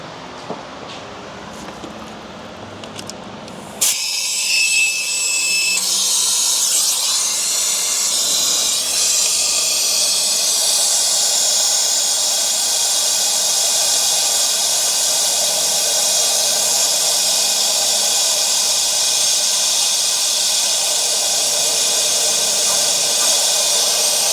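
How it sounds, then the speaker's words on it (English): Steady, loud hiss of a vacuum coolant-bleeding tool drawing air out of a car's cooling system in a shop, starting abruptly after a quieter opening and holding a continuous broadband rush. "we have this tool over here that will vacuum all the air out"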